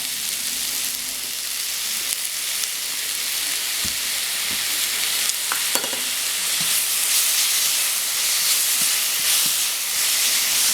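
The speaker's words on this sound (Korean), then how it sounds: "달궈진 후라이팬에 김치를 볶습니다." Kimchi sizzles and hisses steadily in a hot pan, with occasional scrapes and clicks of stirring, loud and close throughout.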